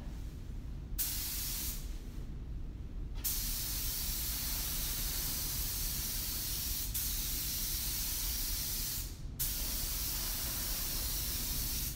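A paint spray gun at 15 to 20 PSI hisses in steady bursts, a broad even spray cut by short pauses between passes, close and continuous with no voices.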